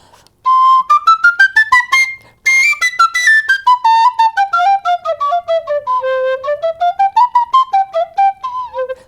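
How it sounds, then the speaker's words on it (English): A sassuto, a penny whistle type wind instrument, played solo in a quick run of clear, bright notes rising and falling in pitch, loud and close. "a sassuto is about the same as a penny whistle type instrument"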